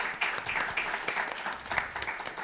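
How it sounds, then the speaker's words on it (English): An audience at a panel discussion on online free speech applauds, a moderate patter of many hands clapping at a steady rate, somewhat distant and sustained across the whole moment. "let's give them all a round of applause"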